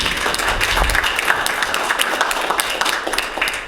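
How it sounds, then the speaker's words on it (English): Applause for the church counters at a budget forum, a dense, steady round of clapping from a room full of people, close and loud throughout with no talk over it. "So one last round of applause for the counters."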